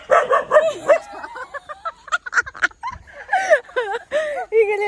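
A dog barking and yipping close by in short bursts mixed with whimpering, high-pitched whining calls, with voices talking intermittently around it.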